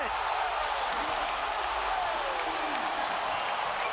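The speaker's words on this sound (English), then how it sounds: "Enough to get this crowd on its feet inside Paycom" A basketball arena crowd at Paycom roars and cheers after a slick move and score in an NBA game, a dense, steady wall of loud noise with no break throughout.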